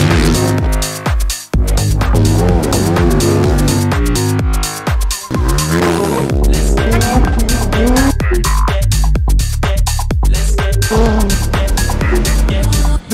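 Rally car out on a stage of the 2023 Rallye du Maroc, its engine roaring loud and close with rising and falling revs and bursts of tire squeal, no voices over it.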